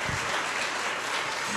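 Congregation applauding in a church service, a steady dense wash of clapping hands filling the room for the whole moment, with no voices on top.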